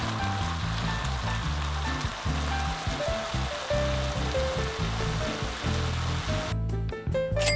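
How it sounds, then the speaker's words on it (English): Ground beef seasoned with salt, black pepper and paprika frying in a pan, giving a continuous crackling sizzle under background music. "Fry until the moisture is gone and the meat is well browned."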